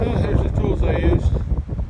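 A strong west wind blows across an outdoor cattle corral, buffeting the microphone with a steady, loud, roaring rumble throughout.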